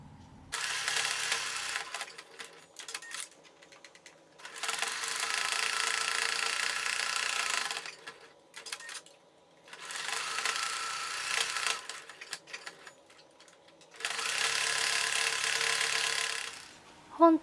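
A sewing machine stitches the second pouch body piece in three or four sustained runs of whirring, each several seconds long, separated by short pauses and light handling clicks.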